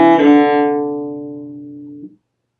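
Cello playing a passage at tempo, a rich bowed tone that rings and slowly fades out to silence, heard alone.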